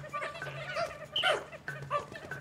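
A dog barks in Pikmin 4 video game, a few quick yips and barks spread across the moment over steady game music, moderately loud and close.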